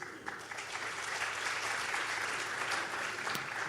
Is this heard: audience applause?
yes